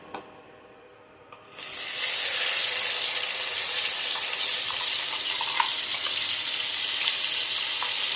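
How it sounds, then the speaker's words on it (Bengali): Onion paste hits hot oil in a pan for a fish curry with cinnamon, cardamom and cloves, bursting into a loud, steady sizzle after a second of quiet, with a continuous hiss and faint crackles, no voices. "এবারে আমি অ্যাড করে দিচ্ছি পেঁয়াজ বাটা।"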